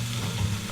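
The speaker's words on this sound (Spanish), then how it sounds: "volvemos a mezclar una vez más para que no se nos pegue" Bell pepper and onion frying in a pan while being stirred, a steady close sizzle with a soft scraping of the stir, loud and continuous for under a second with no voices.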